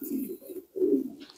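Racing pigeons in a loft give two soft, close coos separated by a short pause.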